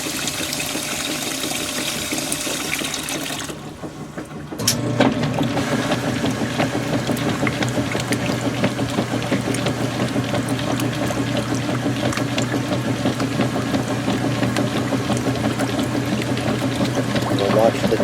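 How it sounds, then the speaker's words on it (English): A washing machine agitating back and forth in water, a steady sloshing churn that starts after a short pause and carries on continuously, close and fairly loud. "as this agitates back and forth, it ends up turning this in one direction to keep screwing the clothes down"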